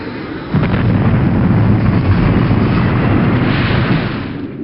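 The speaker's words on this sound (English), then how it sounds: "And then the bomb went off." A bomb explosion erupts after a brief quiet start, a loud broadband blast followed by a sustained heavy rumble that slowly fades toward the end.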